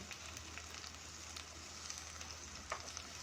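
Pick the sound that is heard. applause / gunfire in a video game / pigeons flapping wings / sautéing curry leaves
sautéing curry leaves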